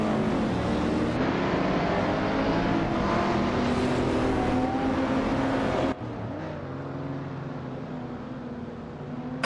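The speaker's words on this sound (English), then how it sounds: "Yamobius is driving a vintage street car, a 1963 Ferrari 250G Berlinetta" A 1963 Ferrari 250G Berlinetta engine drones loudly and steadily at racing speed, its pitch rising and falling through gear changes, then dropping to a lower, steadier tone near the end.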